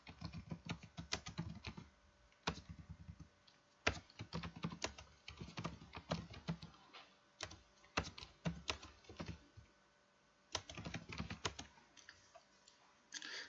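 Someone types a title on a computer keyboard while editing an album in PowerDirector, giving quick irregular bursts of key clicks with short pauses between runs, close and fairly quiet.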